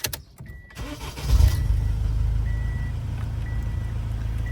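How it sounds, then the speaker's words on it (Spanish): A car engine cranks and catches, then settles into a steady, loud low idle rumble close by, with a faint intermittent electronic beep repeating over the running engine. "Voy a enchufar el coche"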